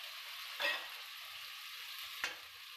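Masala spice paste frying in a pan for mutton curry, a steady soft sizzle with two brief louder scrapes or stirs, fairly quiet and close, with no talking.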